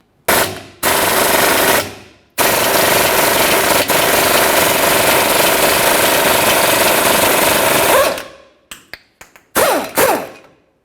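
A press tool forces a rear shackle bushing out on a 2001-2005 Ford Explorer Sport Trac, heard as loud, harsh rattling bursts like an impact driver, one short run then a long sustained one, ending in several brief stuttering pulses.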